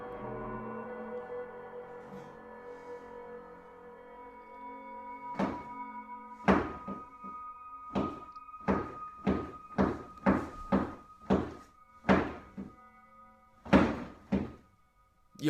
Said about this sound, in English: The knocking continues